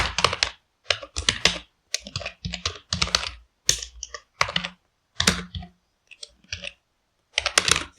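Close, crisp clacking of a computer keyboard as code for a Python function is typed, in quick irregular bursts of keystrokes separated by short pauses, with no voice.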